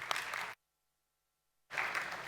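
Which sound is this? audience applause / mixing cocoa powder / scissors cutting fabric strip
audience applause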